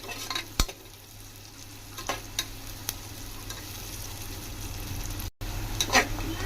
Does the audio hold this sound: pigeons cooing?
no